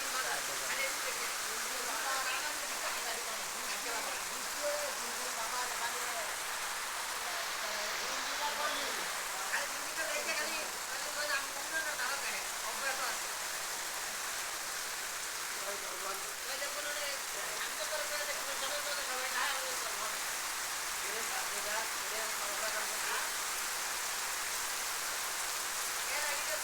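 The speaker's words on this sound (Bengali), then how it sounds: "প্রচুর বৃষ্টি হচ্ছে" Heavy rain pours down in a Bangladeshi village, a dense, steady patter of drops striking surfaces and standing water that continues without break, close and enveloping.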